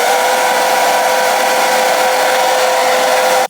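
A hair dryer blows steadily and loudly at close range while drying a wig, holding one even whine before cutting off abruptly at the end.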